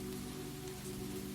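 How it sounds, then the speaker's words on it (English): Steady rain falls on a forest cabin among birches and pines, a dense, even patter of drops that stays constant throughout with no voices. "Beyond the windows, the birches shivered under the rain"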